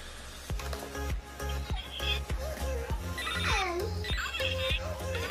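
A child's toy phone rings repeatedly in a steady electronic pattern indoors, with a warbling melody over it and voices talking nearby.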